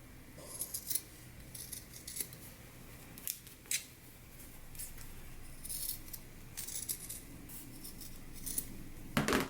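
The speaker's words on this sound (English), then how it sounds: "So now let's go ahead and trim our seams." Scissors snip along the seams of sewn pants, a series of irregular crisp metallic cuts, some in quick clusters and others spaced apart, close and fairly quiet over a faint background hiss.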